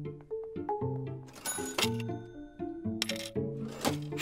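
Coins paid at a shop counter in a children's animated Miffy scene, with a run of small metallic clinks and taps dropping in quick irregular succession over cheerful cartoon music, close and bright.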